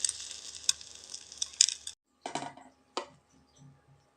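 A spoon omelette, flipped over to cook its second side in a pan, gives a soft hissing fry for a couple of seconds, then falls quiet with a few brief clatters and bursts of sizzle.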